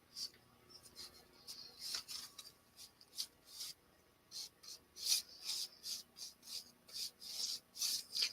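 A brush lightly loaded with paint is dry brushed onto a mixed media assemblage, producing repeated soft scratchy rubbing strokes in a steady back-and-forth rhythm, close and quiet.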